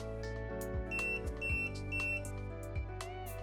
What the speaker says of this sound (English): Press the stop button again and the shade will jog twice and beep 3 times.